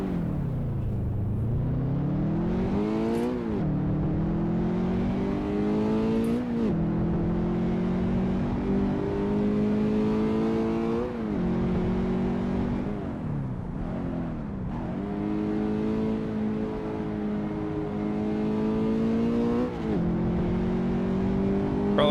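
Car engine in Assetto Corsa on a touge mountain course, revving hard through repeated rising and falling gear pulls, loud and continuous with brief dips for shifts and corners.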